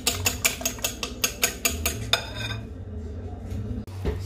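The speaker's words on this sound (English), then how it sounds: "Just gonna beat my egg here." An egg beaten in a bowl with a fork or utensil, a quick run of sharp rhythmic clinks against the bowl that stops halfway, followed by quieter handling sounds and a low steady hum.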